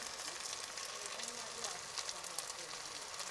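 Shelled chestnuts and rosemary sizzling in a pan with onion and potato, a steady, soft frying hiss with faint crackles running throughout, fairly quiet and close.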